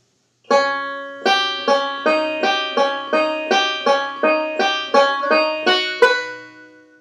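A banjo plays a short phrase of evenly spaced, ringing plucked notes in a steady rhythm, solo and close, the last note fading away.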